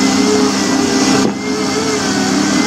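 Floor-mat washing machine at a car wash running loudly and close, a steady dense motorized roar with a brief dip in the middle, no talk over it.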